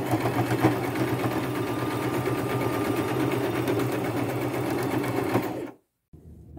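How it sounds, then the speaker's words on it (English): A sewing machine zigzag-stitches a patchwork denim jeans leg, a loud, fast, steady mechanical whirring that runs continuously before stopping abruptly near the end. "So I'll just go to my machine, open this up again, and work on that pant leg with a zigzag stitch."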